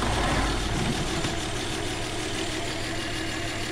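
A Volvo car engine idles sluggishly after a battery swap, a steady low rumble with slight unevenness that runs unbroken and fairly close, with no talk over it.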